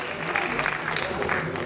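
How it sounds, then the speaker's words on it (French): A tournament audience claps in a short burst of applause, with a voice talking over the clapping. "On applaudit bien fort aussi"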